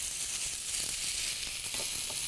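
Ground meat sizzling in a pan as it is stirred and broken up, a steady, fairly loud hiss with faint scraping, lasting about two seconds.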